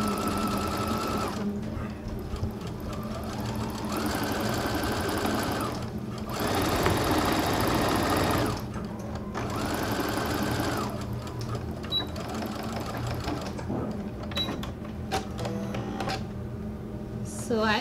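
A sewing machine stitches a seam in denim or twill fabric, its motor whirring in several steady runs separated by brief pauses, close and clear throughout.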